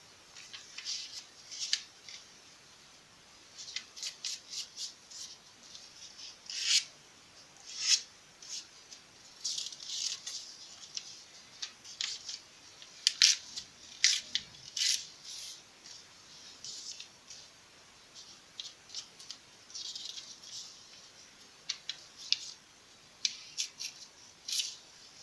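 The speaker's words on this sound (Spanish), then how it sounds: "Tomas el papel de color blanco y le vas a cortar 2 cuadros." Scissors snipping white paper into squares, a run of quiet, crisp clicks in irregular bursts close by, with no voices.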